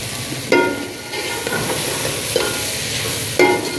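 Bitter gourd and onion sabzi stir-frying in a pan, a steady close sizzle with a few sharp scraping stirs at intervals.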